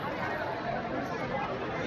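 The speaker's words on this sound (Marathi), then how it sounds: "भाविकांची भरपूर गर्दी आहे." A crowd of devotees chatters steadily at the Tulja Bhavani temple in Tuljapur, a dense, continuous babble of many overlapping voices that fills the space at an even level.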